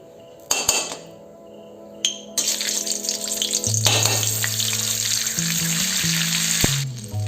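Butter dropped into hot mustard oil for masala Maggi bursts into a loud sizzle, preceded by clanks of a utensil against the pan, with a steady hiss and a hum continuing afterward.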